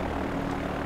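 An airplane takes off in the video game Far Cry 4, a loud, steady propeller-engine drone filling the scene at close range without speech.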